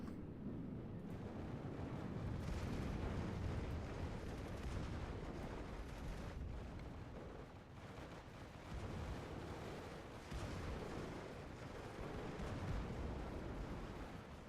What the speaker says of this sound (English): We got a good bombing run on the artillery battery here